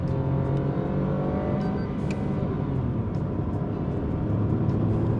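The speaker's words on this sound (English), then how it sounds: "Listen to the engine." A Maruti Suzuki Fronx hatchback crossover drops from third to second gear via paddle shifters in manual mode, the engine note rising into a steady, moderately loud hum with road noise from inside the cabin.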